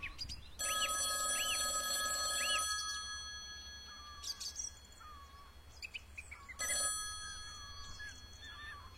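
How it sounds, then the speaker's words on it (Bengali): A telephone rings in a Bengali detective audio story with a call from the police station on a quiet afternoon: a long burst of electronic ringing, a pause, then a second burst, with birds chirping steadily in the background. "এমন সময় থানা থেকে ফোন এলো।"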